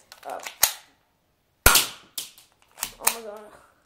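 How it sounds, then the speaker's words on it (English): An STI Colt pocket pistol, fired as a small gun, gives several sharp close-range shots with short gaps between them, and brief talking and laughter come between the shots. "I think I'm gonna shoot the camera."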